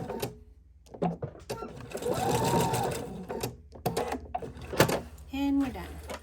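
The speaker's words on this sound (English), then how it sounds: "Now this is lined up with this foot to sew all the way up." Sewing machine stitching a mermaid tail seam, close and steady with short mechanical whirring runs between pauses, while a voice talks over and between them.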